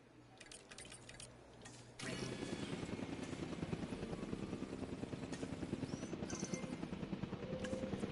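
A helicopter airlift in the video game Jurassic World Evolution 2 on PS4 Pro. Soft game ambience gives way to a sudden, steady, loud rotor drone with a fast rhythmic chop that continues to the end.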